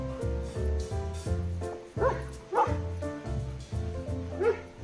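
Several dogs bark and yip in quick repeated bursts close by, with whimpering cries mixed between the barks.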